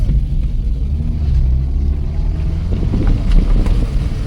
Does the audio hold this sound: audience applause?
no